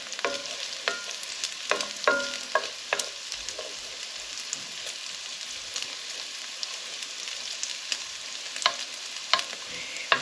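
Chorizo frying in about two teaspoons of oil in an old pan gives a steady close sizzle with scattered sharp pops and crackles throughout, no voices.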